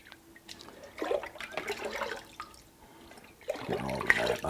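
ONR wash and wax solution is poured into a wash bucket, producing a splashing, gurgling liquid pour that swells in two bursts with quieter trickling between.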